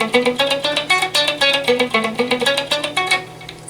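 Electric guitar riff played with an echo effect: a steady run of bright picked notes, each trailed by repeating echoes, close and loud with no talking.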